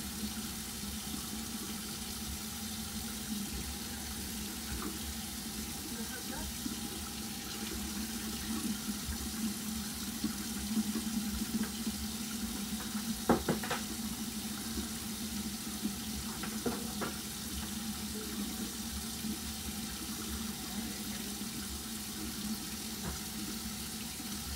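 Warm water runs steadily from a tap into a sink, a constant moderate stream with a few faint knocks, and no talking over it.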